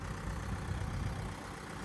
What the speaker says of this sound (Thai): ได้รถไถเออรถไมโคร มันวิ่งได้อยู่แต่ช้าๆเด้อ